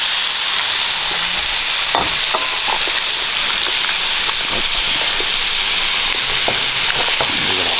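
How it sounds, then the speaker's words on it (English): King crab fried rice sizzles loudly in a hot pan as egg is stirred in, a constant dense frying hiss broken by scraping and clinking from the stirring. "Then we're gonna add our egg right in there like the Chinese do."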